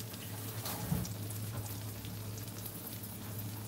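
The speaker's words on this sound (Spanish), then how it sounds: "aquí ya se están friendo" Breaded beef steaks frying in a pan, a faint continuous sizzle and crackle with soft popping, steady throughout and heard alone.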